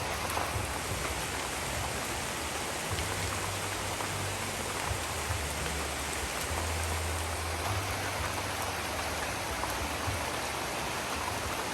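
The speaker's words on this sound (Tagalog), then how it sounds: "ang ganda ng Sunday dahil maulan" Steady rain on a wet Sunday morning, a dense even hiss of falling drops with a faint low hum underneath, constant and unbroken throughout.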